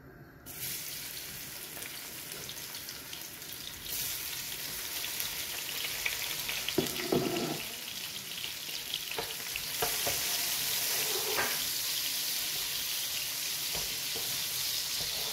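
Crushed garlic frying in oil for a duck curry, a broad, steady sizzle that swells as it goes, with a few clatters of stirring, close and without speech.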